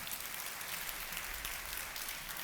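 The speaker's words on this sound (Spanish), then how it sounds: "¿Por qué no le da un aplauso a Jesús esta mañana?" A church congregation claps together at a Sunday morning service, a dense, even wash of applause that holds steadily throughout.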